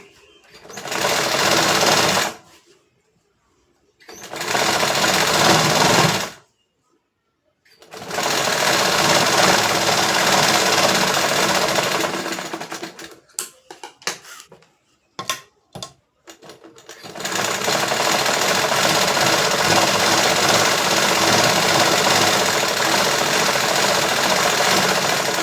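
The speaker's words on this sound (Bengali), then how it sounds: "আমি হাফ ইঞ্চি ধরে আর একটা সেলাই দেব। সেলাইটা প্রতিটা সেলাই ডবল হবে।" A sewing machine double-stitches fabric at half an inch from the edge, loud and close, in long steady runs broken by pauses and a stretch of short stop-start bursts before a final sustained run.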